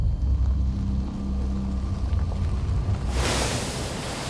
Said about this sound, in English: Susan's car plunges into the water